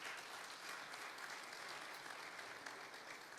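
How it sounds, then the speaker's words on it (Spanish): Church congregation applauding, a dense, steady wash of many hands clapping close by throughout, with no talking. "Dele un aplauso a ese Cristo glorioso."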